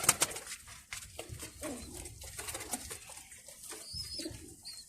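Pigeons coo softly in a loft, their low, repeated throaty calls overlapping from several birds at close range, with faint rustling and fluttering around them.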